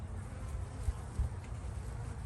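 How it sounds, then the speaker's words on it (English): Agitated honeybees buzz in an open hive, a faint, steady low hum with a couple of soft thumps and no talking. "So the bees are getting a little bit upset. You can kind of hear it in the tone."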